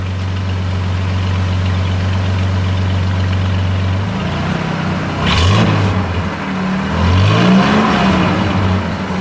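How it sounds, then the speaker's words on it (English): A 1967 Pontiac LeMans Sprint with its overhead-cam six idles with a steady low drone, then gets two sharp revs that rise and fall, close to the microphone. "Go ahead, give it a little rev."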